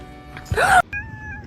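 A kitten gives a short rising meow followed by a longer, steadier mew, close and fairly clear over a quiet indoor background.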